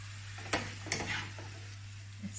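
Potatoes turning crispy in a frying pan give a soft, steady sizzle, broken by a couple of faint scraping stirs, under a constant low electrical hum.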